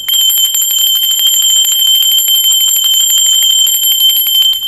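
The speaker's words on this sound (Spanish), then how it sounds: "cuando yo limpio de esta manera con la campana" A small bell rung for cleansing during a tarot reading gives a loud, sustained ringing tone with a rapid shimmering tremor, continuing unbroken for several seconds with no other sound.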